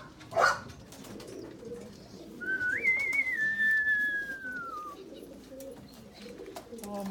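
Young pigeons in an outdoor aviary on an evening give soft cooing calls, with a thin whistling tone rising then slowly falling over a low, steady background murmur.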